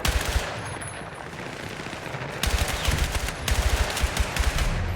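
Rapid gunfire in Battlefield 6 with the War Tapes audio setting, loud automatic bursts cracking in quick repeated volleys, with a brief lull before the shooting resumes more densely.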